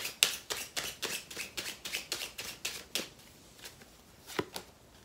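A tarot deck is shuffled up close in a fast run of crisp riffling slaps, then slows to a few separate card snaps as cards are drawn, with no talking.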